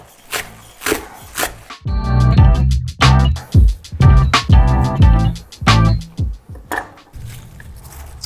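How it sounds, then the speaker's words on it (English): A knife chopping fresh parsley on a wooden cutting board, a quick series of close, sharp taps in uneven bursts, standing alone without talk. "we're gonna go in with parsley. So I'm going to just give this a little bit of a chop here"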